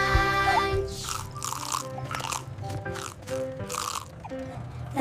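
Apples being bitten with loud, crisp crunches, several bites in quick succession with chewing between them, close up over a sung children's tune with music.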